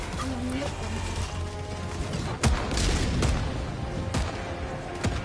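Mortar shells burst and thud in a video game, several booms over continuous gunfire-like clatter, loud and busy, with a voice speaking over the action.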